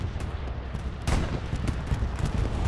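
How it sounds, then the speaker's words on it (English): A bombing run in the World War II shooter Hell Let Loose lands as a dense, continuous rumble of heavy blasts, with a sharper, louder impact about a second in and sustained crackling detonations after it. No one speaks over it. "Sounds like a bombing run coming in"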